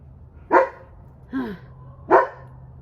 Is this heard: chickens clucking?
no